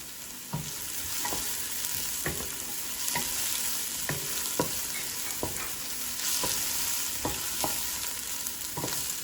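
Green chilies added to a hot pan while cooking Saudi Arabian kabsah with chicken: continuous loud sizzling frying with a regular series of sharp scraping stirs, about one per second, and no talk.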